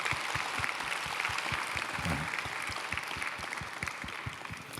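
Audience applause at a church prayer conference, steady sustained clapping from a crowd filling the room, loud and continuous throughout with no talk over it.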